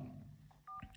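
iPhone 12 keypad tones while entering a code: a few short, quiet electronic beeps in quick succession, close and alone.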